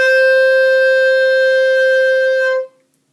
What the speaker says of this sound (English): if you were playing the high D, it would sound like this.